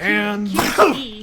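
Someone sneezes once mid-conversation during a Fist of the North Star: Lost Paradise PS4 play session, the burst breaking up a man's speech, with talk before and after.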